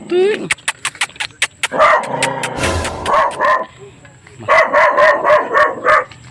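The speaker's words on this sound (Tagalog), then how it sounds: "Uy, may aso dito." A dog barks repeatedly in short bursts, fairly close and loud, mixed with people talking and sharp clicking sounds.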